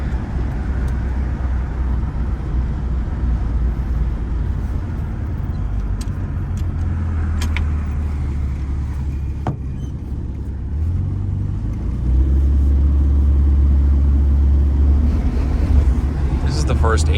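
A 1971 Volvo 1800E is heard from inside while driving in third gear, a steady, loud low engine drone that deepens and strengthens as it pulls, with a voice speaking briefly over it.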